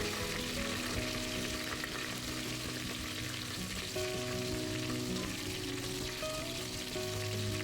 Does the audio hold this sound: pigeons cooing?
no